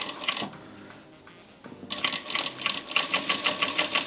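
A Vevor industrial sewing machine, run by its foot pedal, stitches fabric up close: a short rapid burst, a pause with a low hum, then a longer run of fast, regular needle clatter.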